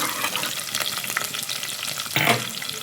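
Continuous oily sizzling of onion and garlic frying in a pan, crackling steadily with a brief louder burst near the end.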